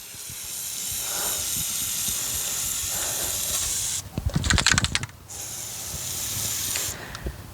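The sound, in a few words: spray grease being sprayed onto trailer hitch ball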